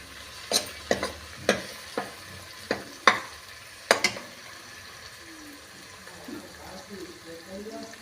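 Light-brown onions with spices for a spinach and fenugreek sabzi, fried and stirred in a pan: a string of sharp spoon-scrape clicks over a low sizzle, then a softer, busier sizzle with some faint background voices.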